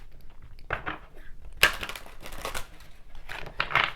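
Deck of Find Your Happy oracle and tarot cards being shuffled by hand, with dry crisp riffling and rustling bursts in several uneven runs, close and fairly quiet, with no talking.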